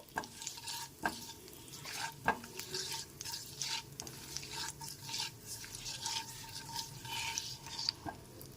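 Black cumin seeds, dried red chili and turmeric powder stirred in hot oil in a pan for a vegetarian Bengali pointed gourd and poppy seed curry, with a soft continuous sizzle and sharp scraping taps of the spoon against the pan throughout.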